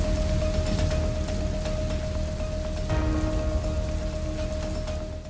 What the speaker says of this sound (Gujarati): ચોતરફ વરસાદ જ વરસાદ રહ્યો.